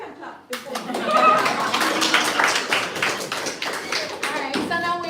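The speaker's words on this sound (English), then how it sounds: "we can clap before" An audience applauds at a cassava conference and celebration in Belize, a dense burst of clapping that rises quickly and holds for several seconds, with voices mixed in underneath.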